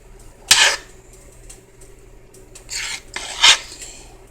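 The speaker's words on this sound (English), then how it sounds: "you can take a metal spoon and you can rake some of it off." A metal spoon rakes foam from strawberry jam in a pot, making two bursts of bright scraping against the metal rim with a gap of low hum between them, close by and without speech.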